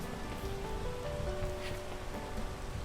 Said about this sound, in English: If we can get a little bit less rain for a second